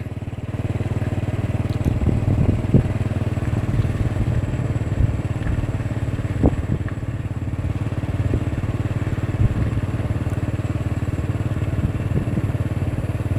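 A motorcycle ridden on an evening road, its engine giving a steady, close mid-pitched drone with faint rattles and clatter all the way through, and no voices.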